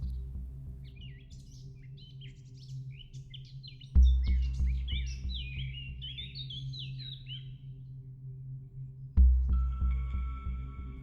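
Birdsong in Central Park in New York: bright chirps and warbling calls trill through the middle of the clip over a steady low city rumble, with two sudden low thumps.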